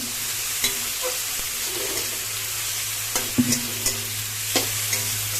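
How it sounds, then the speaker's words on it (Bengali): Ginger-garlic paste sizzles softly in a hot pan while being cooked for an egg curry with brinjal, and a spoon scrapes and stirs in several sharp strokes over a low, steady frying hiss. "এবার দিয়ে দেবো আদা আর রসুন একসঙ্গে আমি বেটে নিয়েছি"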